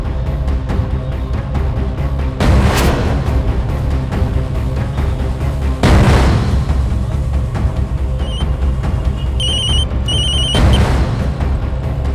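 A phone rings in repeated bursts, bright electronic tones recurring a few seconds apart over a steady background, with no one speaking.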